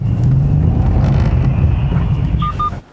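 A Mercedes-AMG car with ESP switched off slides across a watered, slippery circuit, its engine rumbling loudly and steadily close by over a wash of wind and road noise, with two short tonal beeps near the end.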